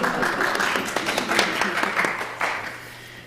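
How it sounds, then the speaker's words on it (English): A church congregation applauds a guest choir, scattered moderate clapping spread through a large room, with some talk mixed in, fading toward the end. "Yeah, we can applaud."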